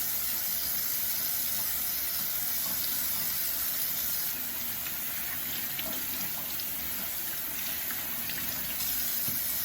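Tap water runs steadily into a sink while hands are rinsed, giving a continuous broad hiss that stays even and close from start to finish with no talking.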